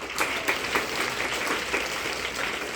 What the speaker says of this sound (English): Let's give our birthday friends a big round of applause.